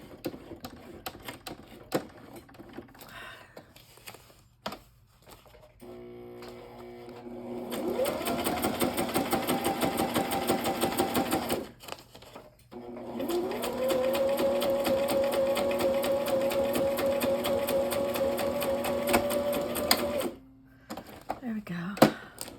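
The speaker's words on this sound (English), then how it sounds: "I don't have the best sewing machine in town." A sewing machine stitches in two long runs, a steady fast mechanical whirr and clatter, with brief pauses and a few clicks around them.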